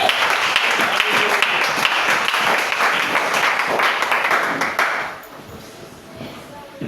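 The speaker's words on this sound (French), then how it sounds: "Acclamez pour le Seigneur Jésus-Christ." A church congregation applauds and cheers in praise, dense clapping and voices filling the room for about five seconds before fading out.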